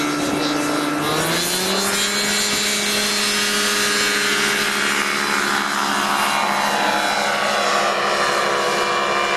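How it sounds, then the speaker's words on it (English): A loud airplane engine runs on an air show runway. It holds a steady, close, droning roar throughout, and its pitch climbs early before settling. No one speaks. "The next pilot on the runway is the pride and joy of Forrest Wood"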